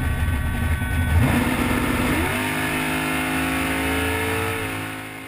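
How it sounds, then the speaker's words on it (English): A super gas drag racing car launching down the strip, its engine revving hard and climbing through a gear change as it pulls away, loud and continuous with no talking. "I suited up to ride shotgun down the strip in a super gas car."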